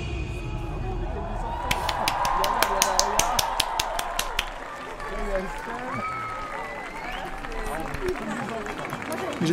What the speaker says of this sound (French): J'avoue, t'as des applaudissements, hein